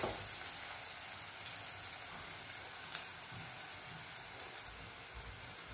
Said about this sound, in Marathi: आणि परत या साइडने पण व्यवस्थित त्याला फ्राय होऊ द्यायचं।